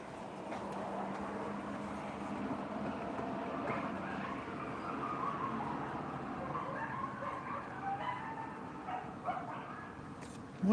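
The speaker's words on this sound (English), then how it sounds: "I thought it was kids, but it sounds like dogs." Dogs bark and yip at a distance, a few scattered calls and whimpers rising over a steady background hum.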